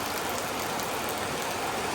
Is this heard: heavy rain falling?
yes